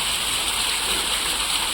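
Cold water splashing onto a face at a bus stand on a very hot day, a steady broadband wash of splashing and running water, close and continuous throughout.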